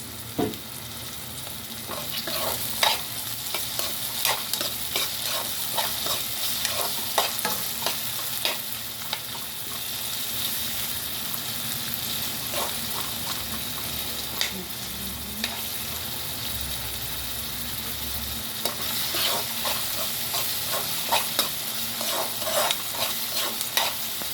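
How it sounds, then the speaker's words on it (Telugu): Onions and tomatoes fry in a pan with a steady loud sizzle, broken by frequent scraping and clinking strokes of a spoon stirring them throughout, with no talking. "బాగా వేగుతున్నాయి కదా, ఇప్పుడు టమాటాలు వేసుకోవాలి"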